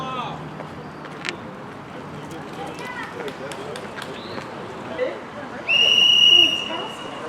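A sharp, loud referee's whistle blast starts a Wednesday night track race at the Dick Lane Velodrome, sounding once near the end over crowd and announcer chatter.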